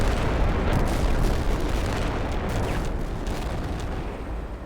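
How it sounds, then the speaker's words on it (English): Explosions in Fallout: New Vegas, in the Lonesome Road area, make a dense, continuous rumbling roar that stays loud for several seconds and eases off slightly toward the end. "Explosions!"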